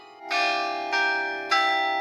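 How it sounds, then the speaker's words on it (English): The New Ulm Glockenspiel, a 45-foot tower with 37 bells weighing about two tons, strikes three clear, ringing bell tones in slow succession during a performance, each note sustaining and overlapping the next with no talking. "It's the Glockenspiel, and the performances, just like this one, happen a couple times a day."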